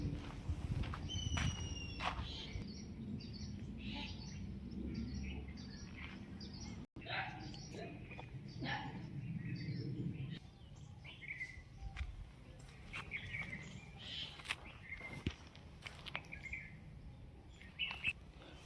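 Birds chirping around a bird-feeding house at a Hindu temple, scattered short calls over an outdoor hum of insects and footsteps, with distant voices in the background.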